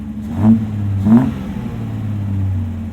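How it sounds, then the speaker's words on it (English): An old British Jaguar-styled small car's engine revs twice in sharp bursts, then settles into a steady idle rumble, close up with no talking. "Just gotta ram it with some throttle and she jumps in."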